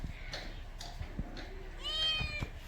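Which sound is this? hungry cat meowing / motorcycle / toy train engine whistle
hungry cat meowing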